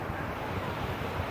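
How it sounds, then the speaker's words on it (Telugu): Sea waves at Bapatla beach wash in with a steady, dense roar of surf, mixed with wind rumble against the microphone and no distinct breaks. "సముద్ర అలలు"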